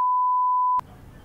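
A single steady phone notification beep sounds loud and clear for most of a second, then cuts off into faint background room noise.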